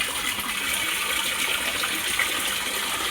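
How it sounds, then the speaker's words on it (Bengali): Steady rushing water pours from a pipe into a makeshift backyard pool beside a tap, a continuous, even hiss and splash with no voices. "এখন হলো সৃষ্টি জল ভরতেছে"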